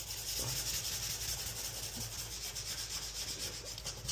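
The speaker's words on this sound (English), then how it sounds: "So right now I'm gonna hit it with this really fine sanding." Fine 220-grit sanding sponge rubbed over a porcelain bathtub, a steady dense scratchy rasp continuing throughout at close range with a soft rhythmic back-and-forth pulse.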